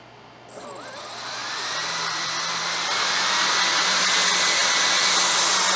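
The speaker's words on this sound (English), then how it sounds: "I'm just going to give it just a touch of throttle to see if they all spin in the right direction." Several electric ducted fans on a 3D printed quadcopter spin up on a touch of throttle, a rising whine and rushing whoosh that swells steadily louder and holds near, with no talk over it.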